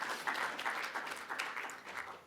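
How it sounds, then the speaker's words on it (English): An audience at the SwimCon22 athlete panel applauds as a panelist is called onto the stage, a dense, even wash of clapping that holds steady for a couple of seconds. "big round of applause."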